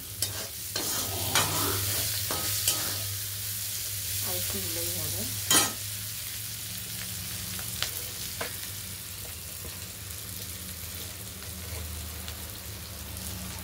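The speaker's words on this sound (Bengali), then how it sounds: "উচ্ছে ভাজাটাও ফ্রাই হয়ে গেছে" Bitter gourd fries and sizzles steadily in a pan while being stirred, with repeated scraping strokes and occasional sharp clinks throughout; a brief voice speaks once.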